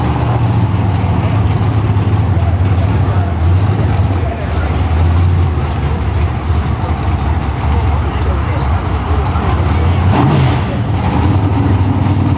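A Pro Mod drag race car accelerating down the strip, a loud continuous roaring engine with a steady rumble throughout, overlaid by commentary speech.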